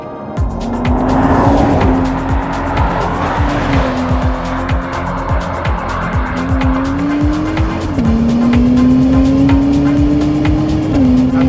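A BMW X3 M50 SUV's 393-horsepower engine roars under hard acceleration, revving up through several gear changes, loud and close, with a whining drone rising between shifts.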